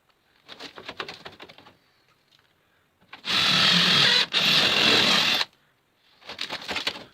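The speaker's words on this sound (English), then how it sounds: "drill that one out" A power drill whines in two loud, steady bursts of about a second each, drilling out a pop rivet on a rusty classic car, separated by a brief pause, with quieter rattling before and after.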